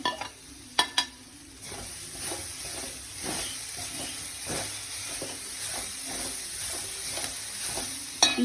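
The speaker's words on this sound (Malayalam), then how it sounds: "ഇളക്കി യോജിപ്പിക്കാം" Egg-spinach stems fry in a pan for a Kerala-style thukaran, giving a steady close sizzle broken by repeated scraping and knocking of a spoon stirring them.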